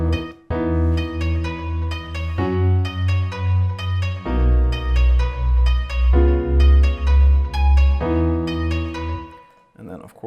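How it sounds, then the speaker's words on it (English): Wide UK garage style bass in an EDM track plays in a pulsing, bouncy rhythm with melodic synth layers on top, steady and loud without talk. "What I like about this bass is that it's like a UK garage bass, like really wide."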